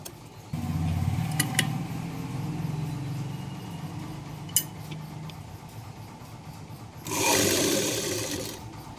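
A sewing machine runs steadily while stitching a folded lining on a blouse, one continuous stretch of close whirring with a brief burst of rougher rasping near the end.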